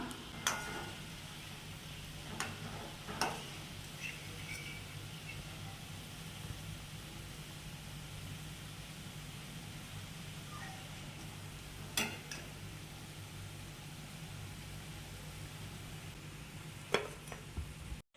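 Egg pakoda sizzles in hot oil on a low flame, giving a steady, soft frying hiss with occasional faint ticks and pops throughout.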